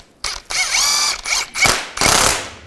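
Ratchet tightening engine mount bolts on a 2005-10 Volkswagen Jetta during a water pump replacement, several loud close bursts of rapid clicking with brief pauses between strokes, no talking.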